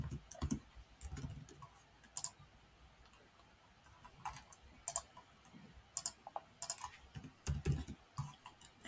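Computer keyboard keys clatter in irregular bursts of quick taps as registration details are typed in, fairly close and alone with no talk, separated by short pauses.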